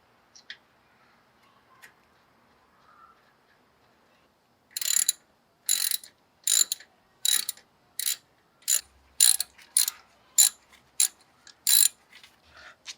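Torque wrench clicking repeatedly while tightening brake bolts to about 25 foot-pounds, ten or so sharp ratcheting bursts in steady rhythm after a quiet start, close and loud.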